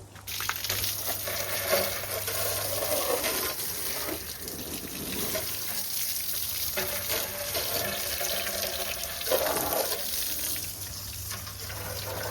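Water runs steadily from a tap, a close, continuous splashing stream with a low hum underneath.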